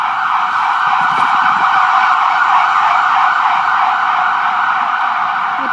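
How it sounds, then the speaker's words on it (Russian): Ambulance siren wails continuously and loudly near a hospital in New York, a sustained, piercing tone that stays close and constant throughout, with faint traffic underneath and no talking. "Мы находимся около больницы, и все время вот эти сирены от скорой помощи."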